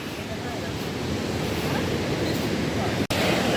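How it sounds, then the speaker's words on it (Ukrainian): A constant, loud rush of water from a waterfall on a river fills the whole stretch, broad and roaring, with a momentary dropout near the end. "Ось там, дивіться, який водоспад, шум води"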